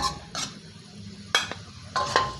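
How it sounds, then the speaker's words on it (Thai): Wai Wai rice noodles being stir-fried in a pan, with a few scraping, clattering strokes of a utensil against the metal and a faint sizzle underneath, heard alone without talk. "ไม่ต้องผัดกลับไปกลับมานะครับผัดมีนะครับ ผัดให้ไปทางเดียวกันนะครับ"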